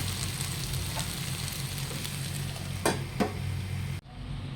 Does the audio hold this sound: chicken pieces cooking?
yes